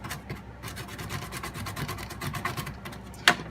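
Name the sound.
scraping gunk off a Neo Geo MVS board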